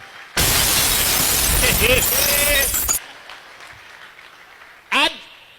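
A comedy show crowd bursts into loud, full applause with some cheering voices mixed in. It lasts under three seconds and drops off sharply, followed by a quieter room and a brief later outburst.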